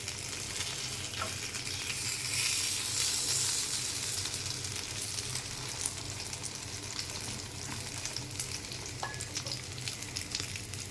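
Eggplant slices fry in a small amount of oil, giving a steady, close sizzle and crackle that runs through the whole stretch with occasional light clinks and no talking.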